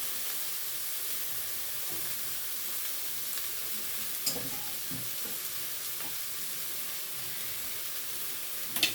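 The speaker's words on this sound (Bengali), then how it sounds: "এবার আমি মোচাটা দিয়ে দেবো, কুচানো মোচা দিয়ে দেবো, সিদ্ধ করিনি, সিদ্ধ ছড়া মোচা রান্না করছি।" Chopped raw banana flower, not boiled beforehand, fries in a pan with a steady, even hiss of sizzling oil throughout, broken only by a couple of faint utensil taps.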